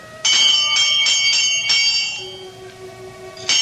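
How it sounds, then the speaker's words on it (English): A door bell pulled at a great door in a radio drama rings in several bright, close metallic strikes in quick succession, then a lingering decaying tone before one more strike. "I reach out and pull the bell."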